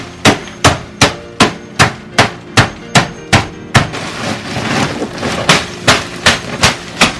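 Sharp, regular impacts strike hard ice again and again in a steady rhythm, breaking it up, briefly interrupted by crunching, then resuming the repeated whacks.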